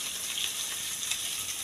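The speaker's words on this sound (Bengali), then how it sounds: "যে গ্রেভিটা তৈরি হবে তার জন্য কিন্তু এই পেঁয়াজটা ভেজে নেব" Sliced onion frying in hot oil for a biryani gravy, a soft, even sizzle that holds steady throughout, with no one talking.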